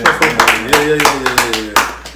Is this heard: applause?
yes